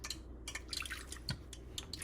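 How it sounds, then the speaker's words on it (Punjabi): Water is added little by little to pakora batter, giving a string of small, close drips and splashes at an uneven pace, with no talk. "ਥੋੜਾ ਥੋੜਾ ਪਾਣੀ ਪਾ ਕੇ ਆਪਾਂ ਨੇ ਮਿਕਸ ਕਰੀ ਜਾਣਾ ਆ"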